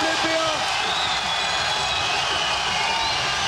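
Boxing world championship crowd at a 2003 bout, a dense, loud, continuous roar of cheering spectators filling the whole stretch, with a commentator's voice briefly over it.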